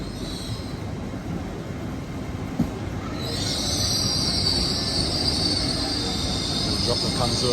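A train on the Leeds line rolls along with steady rumbling, then a loud, sustained high-pitched wheel squeal sets in halfway through and continues to the end.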